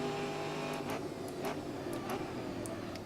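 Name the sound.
race car engine in Grid Autosport video game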